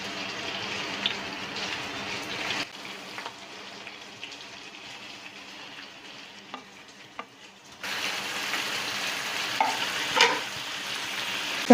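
Fish frying in hot oil in a home kitchen pan, with a steady crackling sizzle that quietens for a stretch and then surges louder again, with occasional stirring clicks and no talking.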